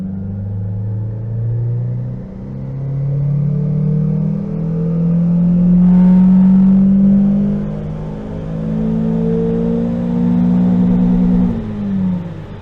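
A Citroen C4 VTS 180 on a rolling road revs up in fourth gear, its engine droning and rising steadily, swelling to a loud peak and ending with a fall-off.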